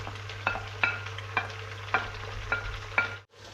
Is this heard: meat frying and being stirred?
yes